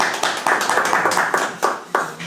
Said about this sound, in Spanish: Un aplauso para Carlos.